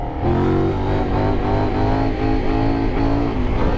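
KOVE adventure motorcycle on MOTOZ Tractionator tires ridden with heavy throttle, a loud, close, continuous engine drone with rising revs, heard alone without talk.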